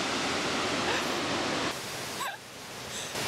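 A waterfall in Sequoia roars as a broad, loud, steady rush, briefly dipping and shifting partway through, with a faint voice heard over it.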